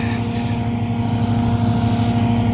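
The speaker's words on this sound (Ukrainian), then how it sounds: "Трактор John Deere 6135B." A John Deere 6135B tractor engine runs steadily at close range, a constant low diesel drone with strong harmonic hum and no talk, during soybean harvest work alongside a grain cart.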